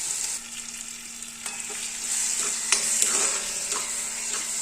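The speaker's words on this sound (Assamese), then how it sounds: "আকৌ ধুনীয়াকৈ তেলত ফ্ৰাই কৰি আছোঁ" Mushroom curry with tomatoes sizzles and fries in hot oil while being stirred, a steady close-up hiss punctuated by scraping clicks of the spoon against the pan.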